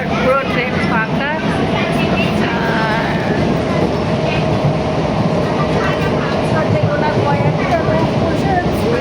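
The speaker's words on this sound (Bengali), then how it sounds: "ট্রেন দেখো, এখন বাজে রাত্রি 9টা, আর পুরো ট্রেন ফাঁকা।" A nearly empty passenger train runs at night, heard from inside the carriage as a loud, steady rumble with rhythmic wheel clatter and squeals throughout.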